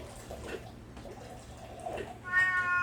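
A house cat meows softly several times, fairly faint against a quiet room, with a longer, clearer meow near the end.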